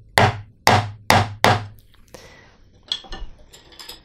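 A carving gouge tapped with a mallet into wood: four sharp, evenly spaced knocks close by, followed by softer scraping and cutting noises as the edge shears across the grain.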